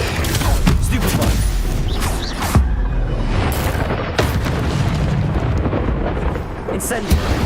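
A Stupefy spell cast during hard-mode combat in the video game Hogwarts Legacy: loud, booming magical impacts and crackling bursts that repeat at irregular intervals amid dense battle noise.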